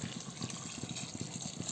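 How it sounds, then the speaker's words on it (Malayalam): Water poured into a cooking pot while making Malabar cucumber pulisseri, a soft steady stream with faint low gurgles, quiet and close, with no talk over it. "ഇനി പാകത്തിന് വെള്ളം ഒഴിച്ചിട്ട് ഇതിനൊന്ന് മൂടി വെച്ച് നമുക്ക് വേവിച്ചെടുക്കാം"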